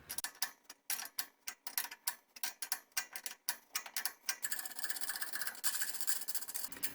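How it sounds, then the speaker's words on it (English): A wrench turns a nut on threaded rod to draw the rod out of a suspended metal shelf, a close run of rhythmic ratcheting clicks that gives way to continuous grinding rubbing. "I just tighten the nut and it'll gradually pull out the rod"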